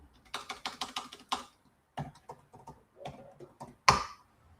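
Someone types a password on a computer keyboard: a quick burst of key clicks, a pause, then a few scattered keystrokes ending in one firm strike, close and clear with no talk.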